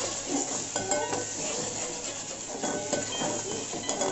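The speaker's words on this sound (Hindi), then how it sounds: "अभी हम इसमें 2 चम्मच अदरक लहसुन का पेस्ट डाल देते हैं। और इसे मिक्स कर लेंगे।" Ginger garlic paste being stirred into a pan of frying chicken biryani masala, with a steady scraping, rubbing stir over a continuous low sizzle, close and moderately quiet, no voices.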